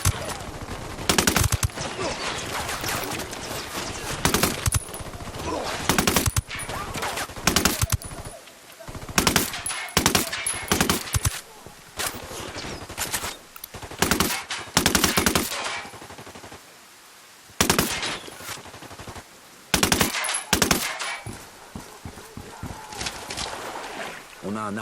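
Gunfire in the video game Ghost Recon Wildlands, with loud bursts of automatic fire and single shots repeating throughout, separated by short pauses, while players talk over the action.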